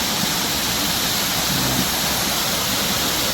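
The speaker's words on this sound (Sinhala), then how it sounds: "පොඩි දියැලක්" A small waterfall pours steadily into a shallow stream pool beside a road, a constant broadband rush of falling water filling the scene without voices.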